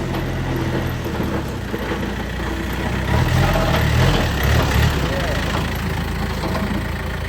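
A used Yanmar 45 hp farm tractor engine running, a steady loud mechanical rumble with a rattling idle throughout, while people talk over it.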